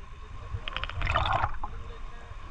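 Water sloshes and gurgles against a small fishing boat at sea, with a close burst of splashing in the middle over a low rumble.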